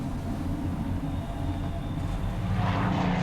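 A returning squadron of 1944 military aircraft drones steadily at a distance, a dense low engine rumble that swells slightly louder near the end, with no voices.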